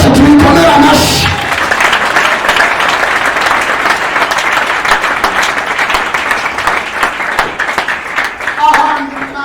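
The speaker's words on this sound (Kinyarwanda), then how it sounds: "Imana yacu tuyikomere amashyi" Loud, sustained applause from a church congregation praising God, many hands clapping together in a full burst that trails off slowly, with voices at the start and end.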